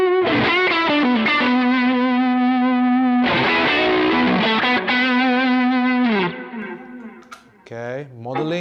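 Electric guitar through a vintage Boss CE-2 chorus pedal, sustained notes and bends with a wavering, shimmering modulation, loud and up front, fading into quieter scattered notes near the end.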